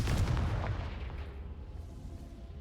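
A Confringo fire spell from Hogwarts Legacy bursts with a loud, booming blast at the start, then decays into a rumbling, crackling tail that lingers at a lower level.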